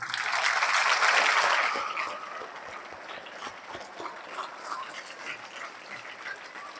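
Thankful applause from a yoga session group rises loud and dense for about two seconds, then thins to scattered, fainter claps and room noise.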